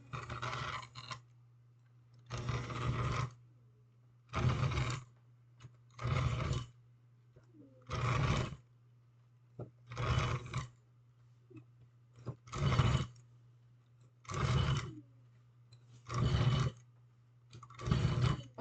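A stand mixer whirs through chocolate chip cookie dough at high speed in loud, even bursts about every two seconds, separated by near-silent gaps, with a low hum underneath.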